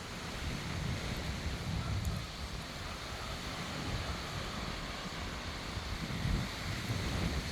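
Ocean waves wash onto a beach strewn with storm debris, a steady, broad roar of surf mixed with wind buffeting the microphone, with no voices.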